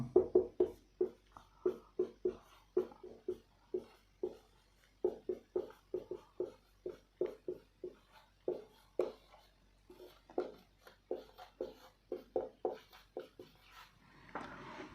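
Chalk or pen writing out a maths answer on fractions, a steady run of quick tapping strokes and short scratches, close and quiet with brief pauses between bursts.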